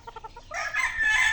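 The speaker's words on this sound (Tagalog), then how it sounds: "Ito ay sweater, napakagandang manok." A rooster crows loudly and close by, a single long drawn-out call preceded by a few short clucking notes.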